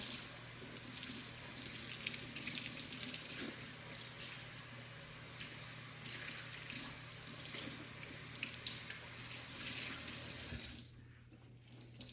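Steady running water splashes from a tap as hair is rinsed, with a continuous broadband rush that cuts off abruptly near the end, leaving a quiet room.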